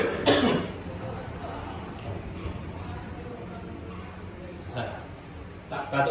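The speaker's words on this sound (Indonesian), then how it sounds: "Masih ini tetap batuk saja nih" A speaker in an Indonesian talk on hajj management coughs, once loudly near the start and again briefly later, over continuous speech in a reverberant room.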